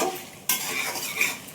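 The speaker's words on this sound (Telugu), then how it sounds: "ఎండుమిర్చి, ధనియాలు, మెంతులు, జీలకర్ర మాడకుండా ఇట్లా లైట్గా వేయించుకున్నాక" Red chillies, coriander seeds, fenugreek and cumin dry roasting and being stirred in a pan on low heat for gongura pickle, a soft close scraping rustle that jumps louder halfway through, with no talk.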